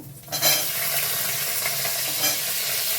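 Potatoes hit hot oil with a sudden loud sizzle that settles into a steady, dense frying hiss, with faint scrapes of stirring in the pan.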